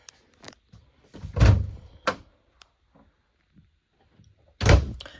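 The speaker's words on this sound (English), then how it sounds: "Pocket bathroom door." Pocket bathroom door in the living quarters of a 2018 Merhow 8009 RWS stock combo horse trailer, sliding with two solid thumps and a later bump, plus small clicks between, close and fairly loud.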